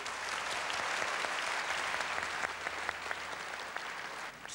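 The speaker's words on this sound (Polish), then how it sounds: "Brawa!" Warm, even applause fills a gala hall at a name-day celebration for women named Krystyna in Ciechocinek, many hands clapping steadily and fairly quietly, without pause.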